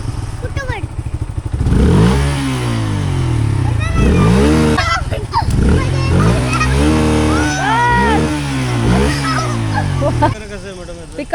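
A Bajaj Freedom 125 CNG motorcycle accelerates on a test ride in repeated bursts. Its close engine note climbs in pitch with each surge, and voices can be heard over it.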